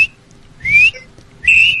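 A person whistles to imitate a whistle, giving two short rising whistle tones separated by a quiet pause, with no talking.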